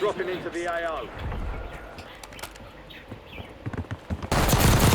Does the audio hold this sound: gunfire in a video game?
yes